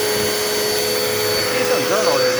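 A Dirt Devil Endura Reach vacuum cleaner runs indoors with a steady, loud motor whine and airflow hiss, its pitch wavering slightly as it is pushed across the floor.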